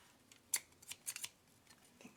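Scissors snip through paper, cutting shapes for a scripture writing journal; a handful of sharp, separate snips sound close up, with quiet pauses between them.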